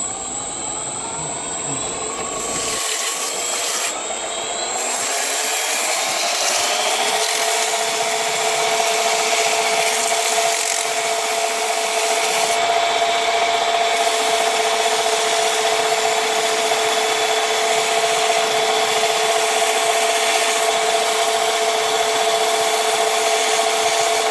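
A workpiece spinning fast on a Sieg mini lathe is sanded with 150-grit sandpaper, making a steady, continuous abrasive rubbing over the machine's whirring hum.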